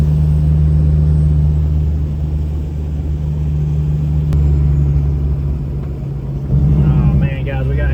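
A Freightliner Argosy cabover truck labors up a hill, its engine a loud, sustained low rumble with steady droning tones inside the cab, and a voice is heard over it.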